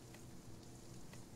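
Steady hiss of black rain falling in the survival game Sheltered, a dense, even patter that holds at one level throughout with no voices over it.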